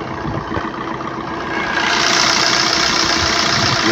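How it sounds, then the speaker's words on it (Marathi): A used Swift Dzire diesel car idles steadily, its engine a continuous close rumble that grows slightly louder partway through, with no talking. "गाडीचा इंजिनचा आवाज पण ऐकू येत असेल तुम्हाला."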